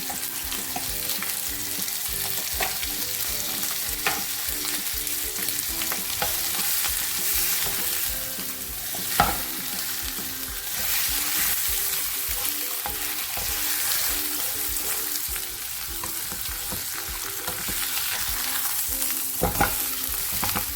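Steak with garlic powder frying in melted butter in a pan gives a loud, continuous sizzle with occasional scraping and clacks of a utensil, heard up close with no voices.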